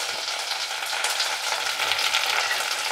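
Onions and curry leaves fry in a pan, a close, steady sizzle and crackle with light stirring scrapes, continuous throughout.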